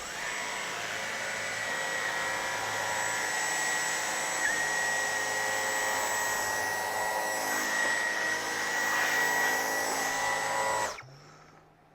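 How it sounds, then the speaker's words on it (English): A Dyson V15 Detect cordless vacuum cleaner runs on low power, a steady close whine with a high tonal hum that holds for about eleven seconds before cutting off abruptly. "I'm gonna keep the power on low on the Dyson."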